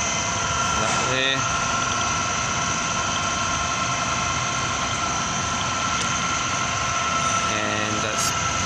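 Kao Ming KMR 700 DS radial drill running on power feed at a faster feed rate, a constant loud mechanical whine and hum with steady tones throughout, plus brief knocks near the start and end.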